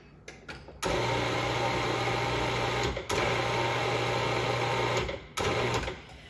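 A food processor runs while pet food is prepared, a loud, steady whirring motor close by in three bursts separated by brief stops.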